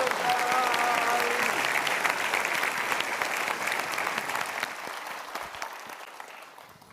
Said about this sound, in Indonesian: Berikan tepuk tangan sekali lagi untuk Bapak Angga.